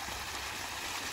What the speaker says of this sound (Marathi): ह्याला उसाला कसं पाणी चाललंय.